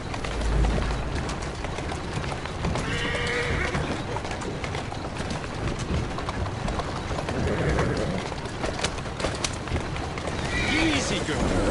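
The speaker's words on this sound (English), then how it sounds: "Who's a good horse? You are." A carriage horse in the game Assassin's Creed Syndicate neighs and whinnies while its hooves clop along, with voices talking over the galloping and a few bird calls in the background.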